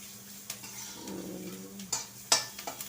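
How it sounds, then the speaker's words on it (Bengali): Vegetables frying in a little oil for Maggi noodles, a low continuous sizzle under scraping stirs, with a few sharp metallic clinks of a utensil against the pan. "সব সবজিগুলো ভেজে নিচ্ছি।"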